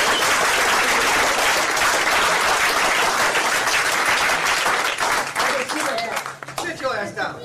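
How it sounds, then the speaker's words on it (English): Loud, dense applause from a standing support-group audience, steady for most of the stretch before thinning into scattered claps, with voices and cheers mixed in. "Give yourselves a round of applause."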